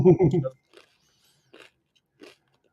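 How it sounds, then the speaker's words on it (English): Someone briefly speaks, then people crunch on snacks while watching old films together, three short, faint, crisp bites spaced about a second apart in near silence. "Sorry if you can hear us crunching."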